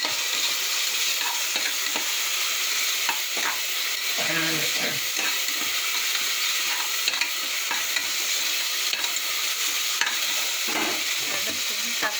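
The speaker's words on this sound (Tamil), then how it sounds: "இந்த பக்கம் தோசை வெந்துட்டுருக்குங்க" A dosa cooks on a pan in a home kitchen, giving a steady, even sizzle throughout with a few soft scraping and tapping touches, close by and without talk.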